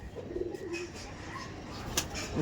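Pigeons at a tournament flying loft give a soft cooing call, brief and fairly close, over faint background noise.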